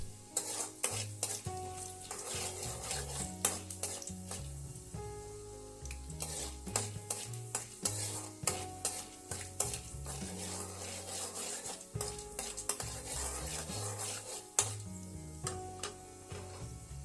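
Mustard seeds and chana dal frying in a spoonful of hot oil in a kadai, a steady close sizzle broken by frequent stirring scrapes and sharp seed pops throughout, with no talk.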